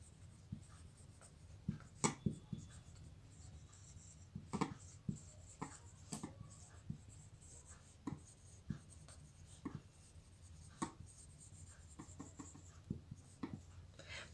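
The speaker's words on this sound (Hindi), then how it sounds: "मैं शॉर्टकट लिख रही हूँ" Pen strokes scratch across paper as class notes are handwritten, a quiet, close series of irregular scribbles and taps with short pauses and no talking.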